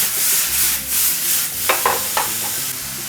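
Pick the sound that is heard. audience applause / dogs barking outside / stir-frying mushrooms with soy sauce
stir-frying mushrooms with soy sauce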